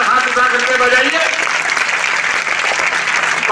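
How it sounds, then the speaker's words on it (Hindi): A crowd in Ghazipur claps loudly and steadily to honour army officers at a martyrdom day event, with the dense applause holding at full strength throughout. "गाजीपुर की जनता की तरफ से जरा जोरदार ताली हर आदमी ऊपर हाथ उठा करके बजाइए"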